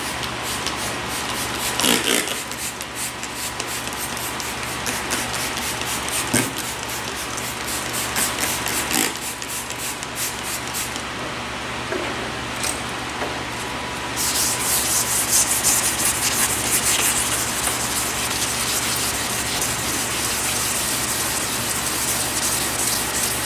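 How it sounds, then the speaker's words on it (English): A car hood hand sanded with 2000-grit paper to remove primer overspray, a continuous close rasping rub with rhythmic back-and-forth strokes and occasional louder swipes, no voices. "I think I'll hit it with some 2000. I should get all that primer overspray off of it"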